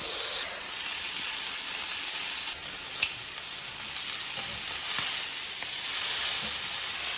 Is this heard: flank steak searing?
yes